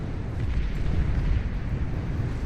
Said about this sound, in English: torpedo bombers blowing everything up. Always awesome.